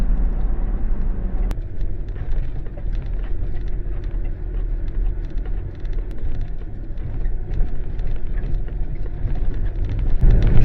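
A vehicle driving along a sandy, corrugated and bumpy bush road, with a steady low rumble of engine and tyres throughout and occasional knocks and rattles from the rough surface.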